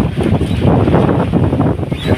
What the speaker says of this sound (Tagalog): So, malakas ang hangin dito sa laot guys.